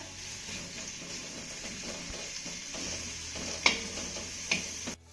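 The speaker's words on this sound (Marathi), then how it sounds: "आता हा कांदा आपल्याला चांगला मौसूत होईपर्यंत परतून घ्यायचा आहे" Sliced onions sauté in oil in a pan, giving a steady soft sizzle with light stirring scrapes, plus two sharp clinks near the end before the sound cuts off.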